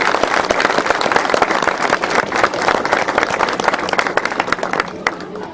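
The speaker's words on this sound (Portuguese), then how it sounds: "Dá uma salva de palmas para ele" Churchgoers at a Cosme and Damião festival break into loud, sustained applause, dense rapid clapping from a crowd that continues strongly throughout, with voices mixed in.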